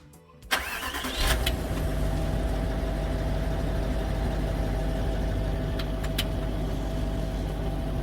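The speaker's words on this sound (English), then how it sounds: "So I'm going to turn the car back on." A Range Rover, just back from a service, cranks and fires up after a short quiet pause, then settles into a steady, close idle that runs evenly to the end with no talking.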